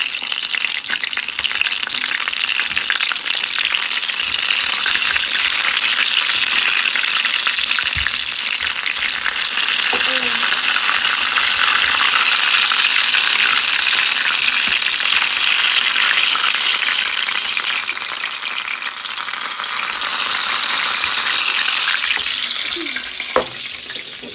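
Chocokrispis-coated ice cream deep frying in hot oil, a loud, continuous bubbling sizzle close by with occasional stirring clinks and a brief scrape near the end; no voices.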